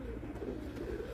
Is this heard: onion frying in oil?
no